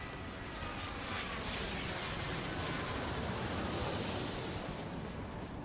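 Jet airliner taking off in the airport management game Airport Madness 3, a steady broadband engine roar that holds loud and even throughout, with no talk over it.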